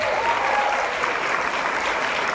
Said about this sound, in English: have a round of applause to Sound and Lights